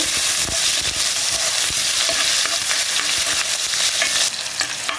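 A large chopped onion sizzles in a little oil while a spoon stirs it around the pan, continuous close frying hiss with repeated scraping strokes, the sizzle easing slightly near the end, no voices.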